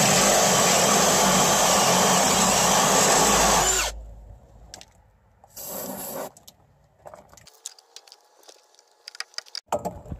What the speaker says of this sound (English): now that my hole is drilled